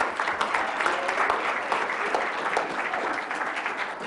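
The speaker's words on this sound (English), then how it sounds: "Let's give them a round of applause" A room full of people at a business meeting clapping steadily for several seconds, a dense, even applause with no voices over it.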